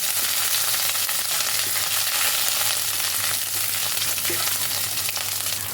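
Ginger frying in oil for a bottle gourd dish made with rohu fish head gives a steady, close sizzle that holds evenly throughout, with a low hum underneath and no voices.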